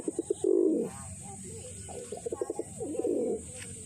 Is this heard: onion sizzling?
no